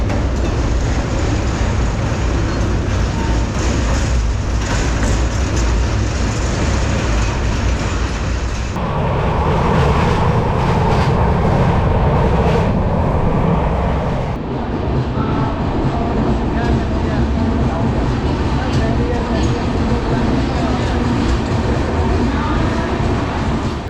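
Kanyakumari–Pune Express running through Kerala, a steady loud roar of wheels on rails with continuous rumble and rattling, changing tone partway through as the carriage passes different track, with no talking.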